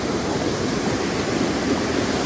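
A waterfall pours from above into water during an off-road drive, giving a steady, dense rushing roar that stays constant and fairly loud through the short moment with no voices.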